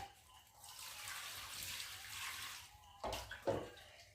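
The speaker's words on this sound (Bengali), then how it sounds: "আর এখন আমি ভালো করে মাছগুলোকে ধুয়ে নেব।" Fish being washed in cold tube well water at night, water splashing and pouring steadily for a few seconds, then two short louder splashes near the end, close by with no talking.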